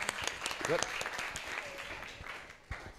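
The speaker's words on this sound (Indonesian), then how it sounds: "berikan tepuk tangan buat teman-teman kita" A workshop audience clapping, steady and fairly quiet, with scattered voices mixed in before it tapers off.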